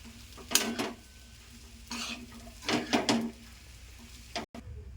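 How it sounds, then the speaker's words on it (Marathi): Upwas khichdi being stirred and sautéed in a pan, with a few distinct scraping and clinking strokes of a spoon against the metal over a faint steady sizzle, close and moderately loud. "बघा सगळीकडून मस्तपैकी परतून घ्यायची"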